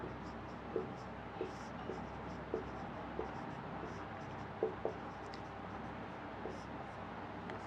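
Pen writing on paper, a run of faint scratchy strokes with small clicks under quiet room noise, close by, for a Class 8 vocabulary lesson.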